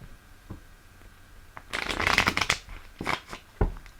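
Tarot cards being shuffled and drawn at close range, a few soft taps and then a quick burst of riffling and slapping, quiet and alone.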